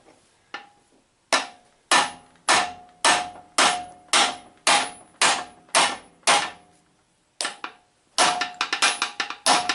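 Heavy hammer blows driving bushings out of a Bobcat 331 mini excavator, a dozen loud, evenly spaced metallic strikes, a short pause, then a quicker cluster of hits close by, with no talk.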